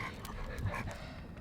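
A dog pants softly nearby, quick breathy huffs repeating under a faint background hum.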